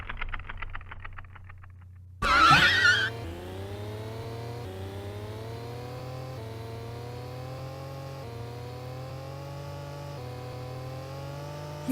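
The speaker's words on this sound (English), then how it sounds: "The gear sounds weird. Yeah, the infinite 6th gear. It's the Rocket League car." A Rocket League car engine from a video game bursts in with a loud revving roar, then settles into a steady whining hum that climbs repeatedly through gear shifts, continuous and alone.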